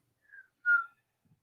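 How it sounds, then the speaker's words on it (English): A person whistles two short notes, a soft brief tone and then a louder, clearer one, alone in near silence. "Yes, I can whistle."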